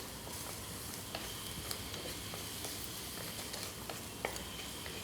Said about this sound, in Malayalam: ഈ സവാള നല്ല രീതിയിൽ ഇങ്ങനെ സോട്ടായി വരുന്നുണ്ട്.